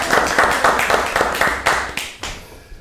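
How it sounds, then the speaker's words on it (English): A short burst of clapping for the Wiggly Florist, a handful of distinct, fairly close claps in an uneven rhythm that thin out and fade toward the end. "A round of applause for the Wiggly Florist."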